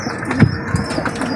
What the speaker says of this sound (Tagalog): Ayan na nga yung mga alaga natin mga kalapati